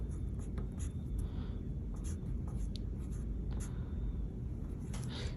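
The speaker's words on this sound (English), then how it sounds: "I'm gonna use my black colored pencil right next to it and just do a little scribble right there" Black colored pencil scribbling on paper, a steady close scratchy rasp running continuously with small stroke-by-stroke variations, alone with no talk.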